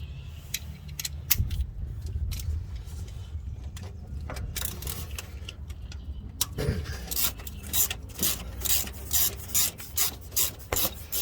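A socket wrench ratchets out starter motor bolts on a 2002 Toyota Tarago, with close, rasping metallic clicks that turn into a quick rhythmic run of ratchet strokes toward the end. No one speaks.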